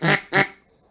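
Two sharp, nasal quacks blown on a handheld duck call as a comeback call, close and loud, followed by a brief quiet tail.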